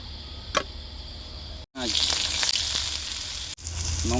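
Oil crackling and sizzling in a hot wok for potato mash cooking, a loud steady hiss broken by two brief gaps and a few sharp pops.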